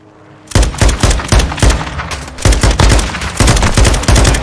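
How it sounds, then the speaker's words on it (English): Rapid gunfire in Call of Duty Modern Warfare II multiplayer: loud, dense bursts of automatic shots in quick succession, nearly continuous and close, with booming low end. "Taking effective fire."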